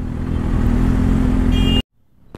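A 2024 Kawasaki ZX-6R superbike with a modified exhaust and dB killer drones loud and steady nearby, then cuts off abruptly into near silence.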